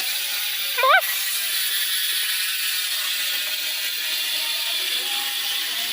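Freehub ratchet of a spinning Gios 4Trix bicycle wheel, a short burst of rapid clicking near the start that gives way to a faint steady hiss, with voices nearby.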